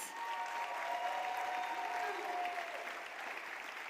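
An audience at a Dancing With The Stars charity gala claps in sustained, steady applause that fills the room from start to finish without a break.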